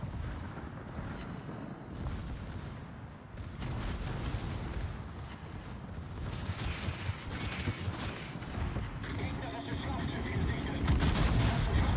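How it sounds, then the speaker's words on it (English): Torpedo hits in the World of Warships naval game sound as loud, rolling booms and crackling gunfire that build in intensity over a dense mechanical din. "Nice torpedo hits."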